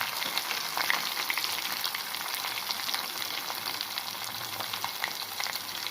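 Onions frying in hot oil for a tomato-free South Indian rasam, a steady close sizzle and crackle with light stirring scrapes throughout, no voices.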